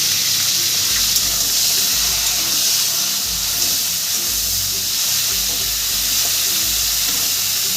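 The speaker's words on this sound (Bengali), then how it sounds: "আমি সজনে ডাঁটার মধ্যে অল্প একটু লবণ দিয়ে ভেজে নেবো" Moringa drumsticks frying with a little salt, a loud, steady, close hiss of sizzling with a low rumble underneath, no talking.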